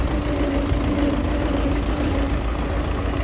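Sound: Belarus tractor engine idling

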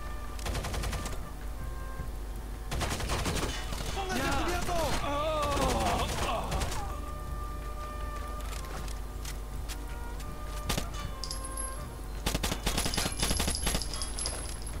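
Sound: gunshots in video game Rainbow Six Vegas

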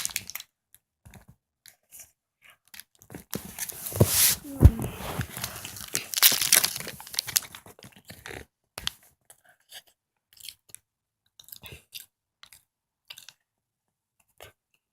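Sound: eating O'Yes chocolate snack cake

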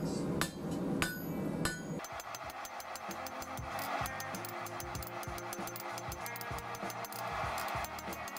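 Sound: hammer forging metal to a taper for a fire basket

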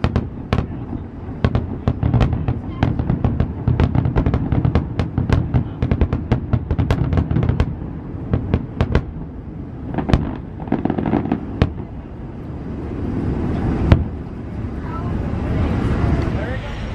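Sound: fireworks at Walt Disney World

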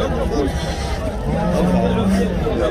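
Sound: sheep bleating at an Iraqi livestock market

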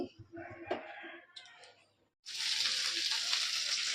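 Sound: okra frying in a pan

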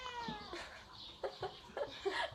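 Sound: two cats competing over lickable cat treats

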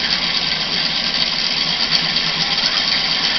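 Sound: Newman motor running

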